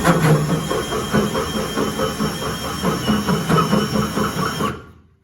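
A drill grinds and whirs steadily for several seconds with rhythmic chattering pulses while working on a 3rd-generation Camaro's rear suspension, then cuts off abruptly to silence.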